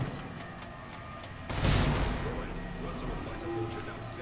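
Explosion in the video game Angels Fall First: a single heavy blast bursts in at mid-clip and decays into a long rumbling tail over steady background game noise.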